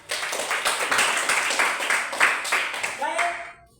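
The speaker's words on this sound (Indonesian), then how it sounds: "Beri tepuk tangan semuanya." Classroom students clapping their hands together after group presentations, a dense patter of many claps lasting a few seconds before tapering off, with a voice speaking briefly at the end.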